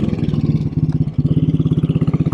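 A 1957 Royal Enfield Bullet 500 in excellent condition pulls along in first gear, its single-cylinder engine beating out a loud, even, rapid thump close by, with a brief dip before the rhythm resumes.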